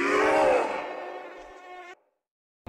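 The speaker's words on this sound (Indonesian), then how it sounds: "Nyamuk, serangga kecil." High, whining buzz of a mosquito, loud and close at first, then fading and wavering before cutting off into silence.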